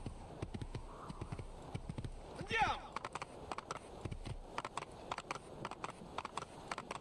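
Horse hooves clip-clopping in Assassin's Creed 2, steady near thuds running throughout with a louder flurry around the middle, under intermittent talk.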